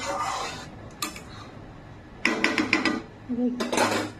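Fish curry is stirred in a cooking pot, with scraping and clinking of a utensil against metal in short bursts, close by and with no voices.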